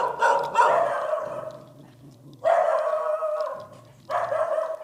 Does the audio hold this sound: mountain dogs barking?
yes